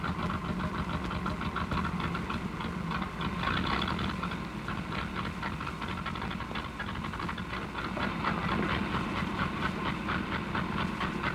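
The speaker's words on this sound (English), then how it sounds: "Boy, this engine sure is missing." A misfiring car engine from around 1935 runs with a rough, uneven chugging and hissing, a continuous steady drone with irregular knocks throughout and no voices.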